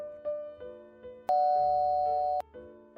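A doorbell chimes repeatedly, pressed again and again by someone at a front door, its ding-dong tones ringing close and clear in several short bursts and one long sustained ring, with no voices.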